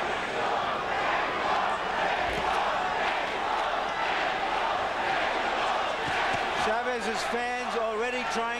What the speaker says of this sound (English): the crowd is more subdued at this moment than we might have expected